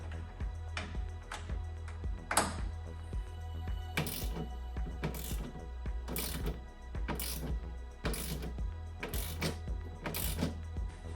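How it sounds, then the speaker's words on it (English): A T27 Allen wrench tightening the mounting bolts of a BAK Revolver X4s tonneau cover on a 2022 Jeep Gladiator, repeated bursts of ratcheting clicks close by over a steady low hum, with short pauses between turns. "You're gonna get your T27 or the Allen wrench that they sent you, and you're just gonna tighten these down."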